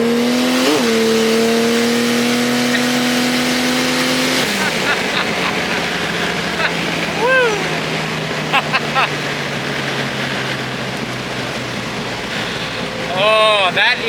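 A Barra-swapped Ford Falcon XD race car of about 650 horsepower and 1,300 kilograms roars loudly as its engine revs, with rising pitch at the start, then gear changes and quick bursts of acceleration.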